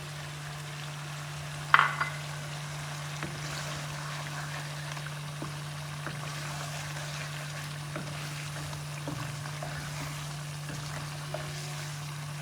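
Chicken sautéing in butter and desi ghee for a Hyderabadi green chicken karahi, a soft steady sizzle under a constant low hum, with a sharp clank early on and occasional light stirring taps.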